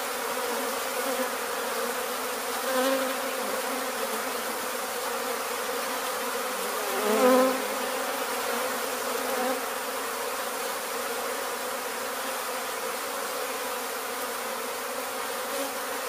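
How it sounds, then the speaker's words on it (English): A honey bee swarm being removed in Weslaco, Texas, with three queens, gives a steady, close buzzing drone that runs throughout, with a brief louder swell near the middle. "A lot of bees."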